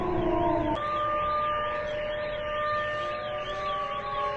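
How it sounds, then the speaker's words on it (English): A wailing air raid siren rises and falls steadily in long slow cycles, loud and continuous, with a brief shift in tone near the start. "those classic air raid sirens."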